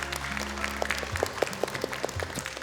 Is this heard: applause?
yes